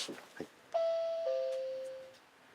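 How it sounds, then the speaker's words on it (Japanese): Alert chime inside a school bus cabin after the engine is switched off, a short sustained electronic tone followed by a second, lower tone that fades out slowly, with faint voices just before. "車を使い終わった後にエンジンを止めた、その止めたところをきっかけに車内に音声が流れます。"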